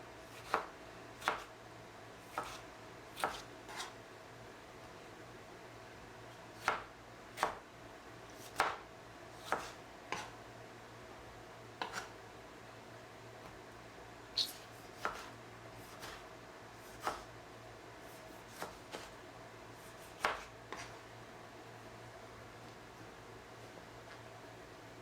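Ingredients for a biryani are cut with a knife on a board in a series of sharp, close chops, spaced unevenly with short pauses between bursts, against a quiet background.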